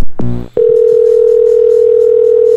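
A telephone dial tone plays as a call is placed: a short burst of noise, then a loud, perfectly steady continuous tone held alone to the end.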